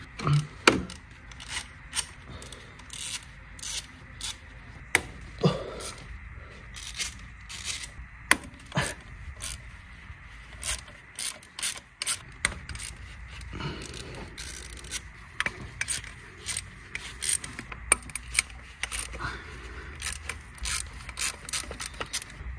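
A ratchet wrench undoing size 10 bolts on a car's EGR valve, rapid clicking pawl bursts repeating in quick runs with short pauses, close and fairly loud, occasional metal scrapes, no talking.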